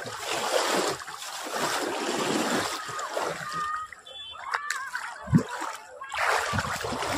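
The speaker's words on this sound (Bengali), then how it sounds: "আমিও একটা ফ্রেশ জলে ডুব দিয়ে আসি।" River water splashes in loud, churning bursts with quieter gaps as a bather dips in during a crowded Ashtami bathing festival, with nearby voices at moments.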